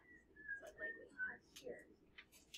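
A person whistles a thin melodic tune in a classroom during a seventh-grade math lesson, several short phrases over about two seconds, fairly quiet, with faint background murmur.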